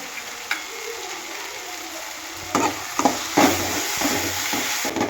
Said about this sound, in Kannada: ಚೆನ್ನಾಗಿ ಮಿಕ್ಸ್ ಮಾಡ್ಕೊಳ್ಬೇಕು ಮಸಾಲೆ ಪುಡಿ ಎಲ್ಲ ಈ ಈರುಳ್ಳಿ ಟೊಮೆಟೊ ಹಸಿಮೆಣಸಿಗೆಲ್ಲ ತಾಗಬೇಕಲ್ಲ